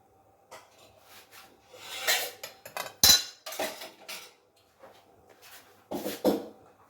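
A cutter slicing through stacked rolled dough for nimko, heard as intermittent close scraping, rubbing and pressing strokes in short bursts with quiet gaps between.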